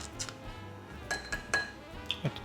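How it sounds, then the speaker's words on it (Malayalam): A spoon stirring leftover matcha into milk: a handful of light clinks and taps against a cup, sparse and close but quiet, with a faint background tone. "മാച്ച സ്പൂൺ, അതൊക്കെ ഒന്ന് മിക്സ് ചെയ്ത് കൊടുക്കുകയാണ് കേട്ടോ"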